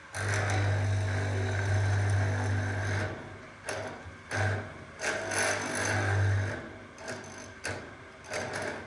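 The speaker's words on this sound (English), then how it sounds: "using your whole lower body strength to turn the wheel of this mortiser in a completely controlled manner" A hand-operated wheel mortiser chops a mortise in wooden door stiles, a mechanical whirring hum followed by a series of irregular knocks and scraping bursts as the chisel is pulled down, close and fairly quiet.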